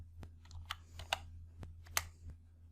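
Soft, sparse clicks of typing on a computer keyboard, about eight separate keystrokes at an uneven pace, close but quiet over a low hum.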